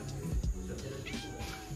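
A cat meows close by, a short plaintive cry followed by softer wavering mews over faint background noise.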